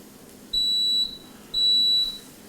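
A kitchen timer on a waffle grilled cheese cooking setup beeps twice, each a high, pure electronic tone about half a second long with a pause between, clear over a quiet room.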